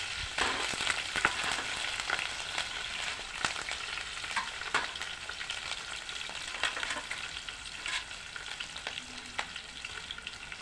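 Cumin seeds and green chillies sizzle in hot oil in a pan, a bright continuous crackle and hiss with scattered pops and stirring clicks throughout.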